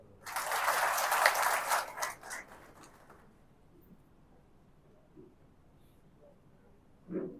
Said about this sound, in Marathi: ते आपल्या सर्वांचे मार्गदर्शक ॲडव्होकेट नरसिंह निकम साहेब, त्यांच्यासाठी एकदा टाळ्या